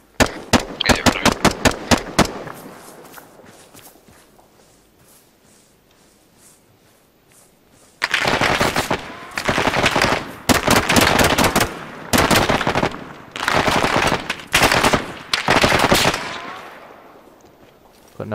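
Airsoft gunfire in a milsim game: a quick string of sharp pops at the start, then heavy bursts of loud, dense rapid fire filling the second half, with no talk over it.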